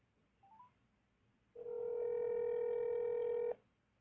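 A phone plays a brief faint blip, then a single steady, loud electronic telephone tone holds for about two seconds before cutting off sharply.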